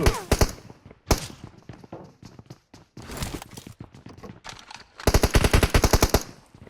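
Video-game gunfire comes in several sharp, rapid automatic bursts, some loud and close, with quieter shots and footsteps between them.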